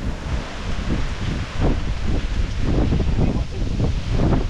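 Gusty wind sweeps through mango trees during a harvest, a loud continuous rush with leafy rustling bursts, heard alone without talk.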